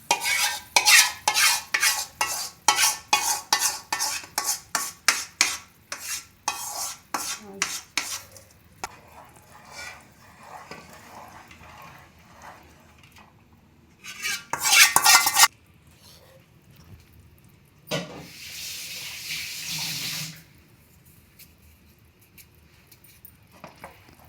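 A spoon stirs gram flour mixed with oil in a pan over a medium flame for Mysore Pak. Rapid scraping strokes come first, then quieter gaps and later short bursts of harsh scraping, close and loud.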